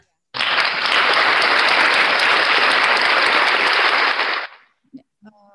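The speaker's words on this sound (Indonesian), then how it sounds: "Mari kita berikan aplaus yang meriah." Applause from a webinar audience on ostomy care and wound management: a dense, loud burst of clapping lasting about four seconds, then tapering off into a few faint stray sounds.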